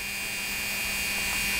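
A steady, close electric hum from an optimized motor fitted to a Pfaff 332 sewing machine, running continuously at an even pitch without variation and with no talking.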